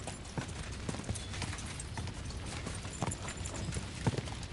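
Horse hooves clip-clop at a steady walking rhythm in the medieval video game Kingdom Come Deliverance 2, the even thuds repeating under a continuous ambient game background with a few sharper hoof strikes.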